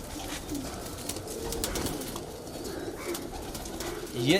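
Kalpare high-flyer pigeons coo in a loft in Patna city, soft repeated calls over a busy background, with people talking nearby.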